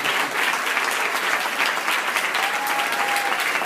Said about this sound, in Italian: vi chiedo di fare un applauso così li facciamo accomodare.